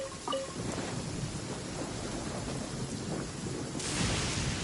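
Steady heavy rain pours through a thunderstorm in the Genshin Impact video game, a dense continuous downpour with low rumbling and a brightening surge of rain near the end, with no voices.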